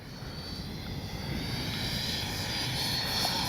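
A Freewing F-18 90mm RC model jet engine roars steadily in the distance, a broad whooshing hum that slowly grows louder.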